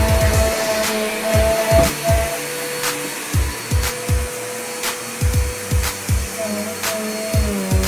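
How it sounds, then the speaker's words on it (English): A vacuum cleaner runs on carpet at home, its steady motor whine broken by a regular series of thumps and knocks as it is pushed back and forth close by. "La decided he's gonna vacuum my floor"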